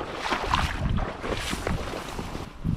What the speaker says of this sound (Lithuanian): Vėjas kyla, spėjau audra jau ateina.